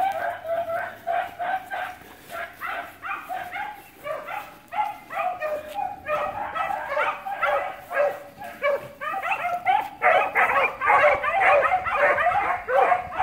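Beagle puppies bark, yip and whimper in a rapid, continuous stream of overlapping high-pitched calls, close by and fairly loud throughout, with no talking.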